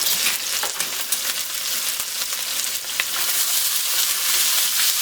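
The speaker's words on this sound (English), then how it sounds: "Stir fry that up." Garlic, mushrooms and cabbage stir-fried in a hot wok for shrimp lo mein, a continuous loud close sizzle with light scraping and stirring noises, no voices.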